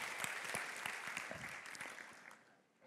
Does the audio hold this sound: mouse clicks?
no